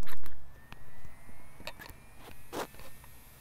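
A hard drive powered through a spare working PCB spins up, giving a faint rising whine under scattered clicks and handling knocks, with no one speaking.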